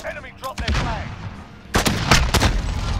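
Sniper rifle shots in a video game, from the new season 6 sniper, sound as booming blasts with rolling echo, one early and a heavier cluster later, over background game noise.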